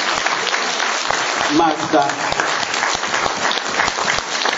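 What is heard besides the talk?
audience applause for band members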